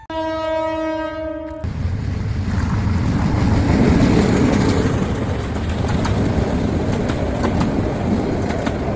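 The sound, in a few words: train arriving at station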